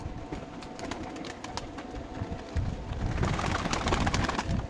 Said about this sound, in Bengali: দেখো বন্ধুরা কেমনভাবে খাচ্ছে এই পায়রাগুলো আমার পায়রাগুলো রুটি খেতে খুব পছন্দ করে